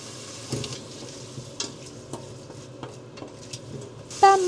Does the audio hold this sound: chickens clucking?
no